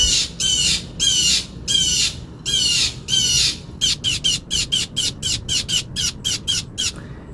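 A bird squawks nearby in a rhythmic series, first several longer harsh calls, then a rapid run of shorter, evenly spaced squawks, loud and clear over a quiet background.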